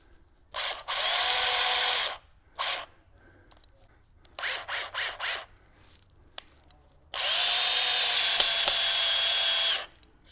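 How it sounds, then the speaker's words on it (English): Power drill driving a screw into a motorcycle tire to make a puncture, loud close bursts of whirring: two long runs, a short burst, then several quick pulses before a long final run. "We're going to do that with a drill and a Sharpie screw."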